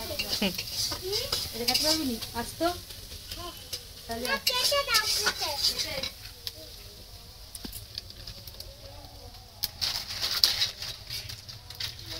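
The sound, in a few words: cooking chicken in a pan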